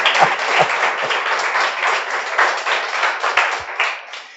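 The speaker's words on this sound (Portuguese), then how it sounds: "Você pode aplaudir a Jesus nessa noite?" A church congregation applauding during an evening service, with dense, continuous clapping from a crowd that swells and fades over several seconds.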